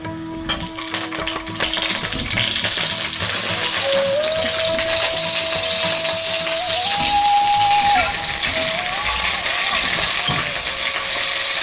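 Potatoes and cauliflower fry in a pan for khichdi, a steady close sizzle that runs unbroken under faint clinks and stirring, with no one speaking.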